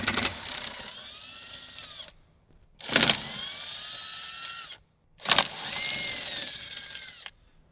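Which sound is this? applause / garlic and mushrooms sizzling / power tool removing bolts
power tool removing bolts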